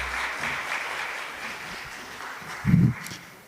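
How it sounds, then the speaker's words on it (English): Audience applause at a Kenya Space Agency event for an ARISS radio contact with the International Space Station, a soft, fairly distant patter of clapping that holds steady for a few seconds, with a brief low thump near the end. "A round of applause from the Kenya Space Agency as he takes his seat."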